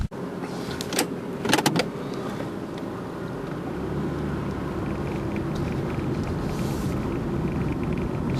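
Car in East Wilmette pulling away to begin a drive, with a door or window clunk and rustle early on, then a steady low engine and road rumble from inside the cabin, no talking.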